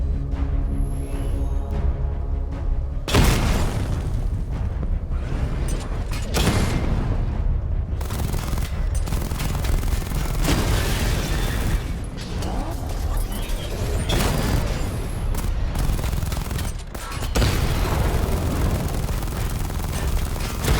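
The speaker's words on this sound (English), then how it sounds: "Destroy targets to charge up weapon energy and activate missile barrage." Missile barrage explosions in the Batman Arkham Knight video game, a dense, continuous rumble of booms and blasts layered with mechanical clatter, loud and sustained with brief dips between volleys.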